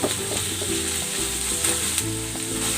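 Onion and shredded chicken sizzle and fry steadily in a pot for chicken sotanghon soup, a loud continuous crackle with faint stirring clinks and a low hum beneath.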